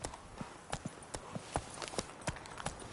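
Horse hooves trot in The Witcher 3, a rhythmic clip-clop of sharp, fairly quiet hoofbeats at a steady pace with no voices over them.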